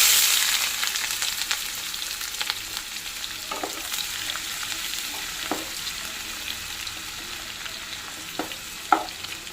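Chopped onions fry in hot oil for a keema brinjal curry, a steady close sizzle that eases slightly over time, with scattered soft clicks and a sharper utensil knock near the end.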